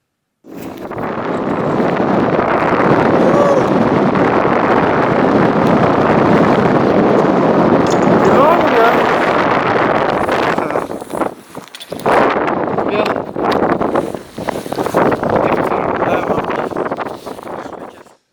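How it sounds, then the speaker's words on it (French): Strong wind buffets the microphone on a Himalayan summit ridge of Chamlang in Nepal, a loud continuous roar that drops out briefly near the end before returning in gusts. "vous pouvez vous apercevoir du coup qu'il y avait quand même du vent"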